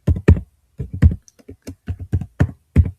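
Someone types on a computer keyboard while naming a new file in Adobe Illustrator, with close, crisp keystrokes in quick irregular bursts and short pauses between them.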